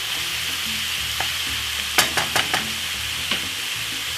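Jamaican pepper steak browning in a hot pan, a constant close sizzle with a few brief scrapes and clicks from stirring in the middle.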